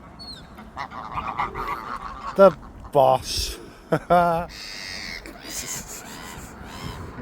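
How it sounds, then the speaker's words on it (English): Waterfowl by a canal in Runcorn honk and quack in sharp, irregular bursts, some loud and close, while people talk nearby. "Look at all these birds."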